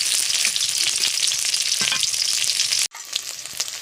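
Chicken pakoras being turned in hot frying oil give a dense, continuous near sizzle that cuts out abruptly near the end, then resumes more softly, with no talking.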